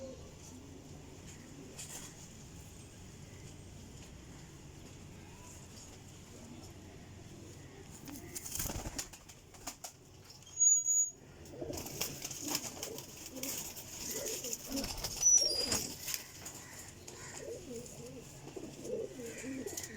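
Pigeons in a loft of flying birds give soft, low cooing over steady background hiss, with a burst of wing flapping midway and further scattered fluttering and rustling afterward, fairly close.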